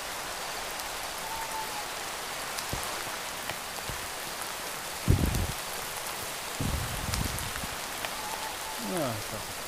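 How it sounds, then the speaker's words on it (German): Rain falls steadily in the video game Minecraft, a continuous patter of drops with a few louder thuds and brief swooshes, and voices talk quietly at times. "jetzt regnet das"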